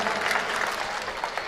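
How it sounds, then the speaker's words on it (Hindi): An audience claps steadily through a comic Hindi poetry recital, dense close applause filling the whole moment without talk. "ताली बजा दो यार"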